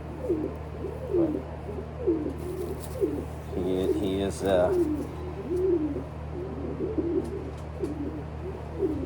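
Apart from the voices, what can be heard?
racing pigeon cooing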